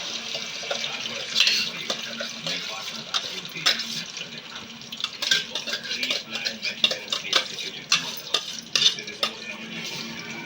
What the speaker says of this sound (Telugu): వేసుకొని పచ్చివాసన పోయేదాకా వేయించాలి